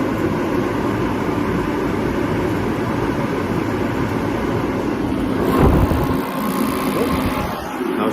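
A Mr. Heater 75,000–125,000 BTU gas turbo heater roars steadily with a loud, constant fan-and-burner rush, then falters and winds down as it is shut off near the end.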